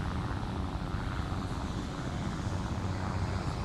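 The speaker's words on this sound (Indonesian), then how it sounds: "Ya, ada helikopter, denger gak?" Helicopter flying overhead, a faint, steady broadband rotor rumble with wind noise across the whole stretch, no talk.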